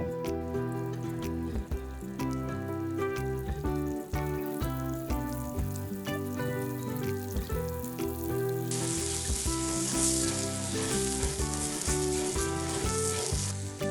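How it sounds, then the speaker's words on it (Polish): Meatballs coated in flour sizzling steadily in hot oil in a frying pan, a continuous crackling hiss with spattering pops, heard under a bed of music. "Na patelni rozgrzewam olej. Następnie podsmażam klopsy, aż się zrumienią."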